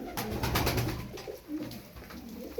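Pigeons coo softly in low, rolling calls, several birds close by, with fluttering and rustling mixed in.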